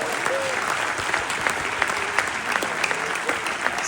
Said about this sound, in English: Let's give them one more big round of applause as well.